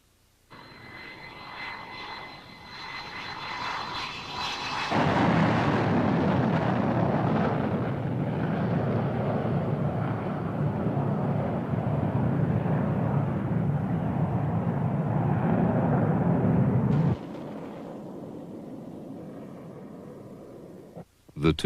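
Two pairs of jet fighters, including F-14 Tomcats, roar past at high speed, a sustained loud jet rumble that swells after a quieter start, then drops away near the end.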